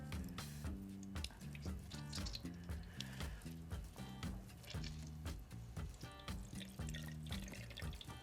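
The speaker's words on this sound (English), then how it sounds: "give it 1 or 2 last big squeezes and you'll see exactly how much water we'll lose" Water squeezed out of cooked red bean paste by hand in a kitchen, giving repeated wet squishing bursts and trickles of liquid dripping, rhythmic and close, with no voice present.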